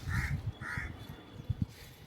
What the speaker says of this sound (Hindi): यहाँ के चील और कौवों से मुझे बड़ा डर लगता है